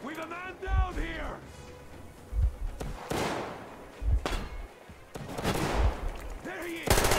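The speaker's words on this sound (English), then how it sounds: "Where are they shooting from?" Gunfire crackles in a Metro Exodus firefight, with several sharp shots and bursts spread through the stretch while in-game voices shout between them.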